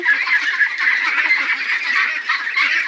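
Ducks and geese honk continuously on a farm, several birds calling over one another in a steady, fairly close chorus with no talking.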